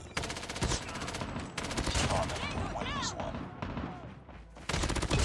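Hip-fire gunshots in the mobile shooter game Call of Duty Mobile: dense bursts of rapid automatic fire with short pauses between them, loud and close, layered over in-game effects.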